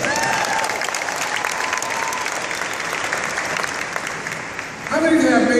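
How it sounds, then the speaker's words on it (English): Convention audience applauding presenters after a business-growth talk, a dense sustained wash of many hands clapping that swells louder near the end, with cheering voices mixed in. "Give them a tremendous round of applause."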